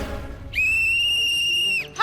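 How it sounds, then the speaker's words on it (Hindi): A referee's whistle blown for half time in a village match, one long steady shrill blast of about a second and a quarter, loud and close, rising from a quiet murmuring background. "अरे हाफ टाइम हो गया, सीटी बजाओ।"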